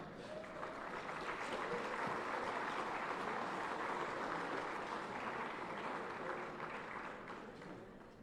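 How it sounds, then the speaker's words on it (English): Sustained applause from an audience at a hall of fame induction ceremony honoring a 1972 basketball team, a dense steady clapping that swells and holds for several seconds before easing slightly at the end. "let's give them a round of applause"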